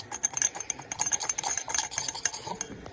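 Sugar cookie batter with a freshly cracked egg being whisked by hand in a bowl, a quick, steady run of close scraping taps and clicks lasting throughout, no voices.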